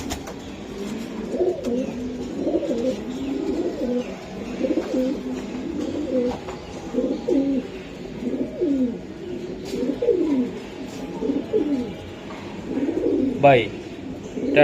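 Racing and high-flying pigeons, including Giribaz birds, coo in steady repeated low rolling phrases throughout, close by, with someone talking over them.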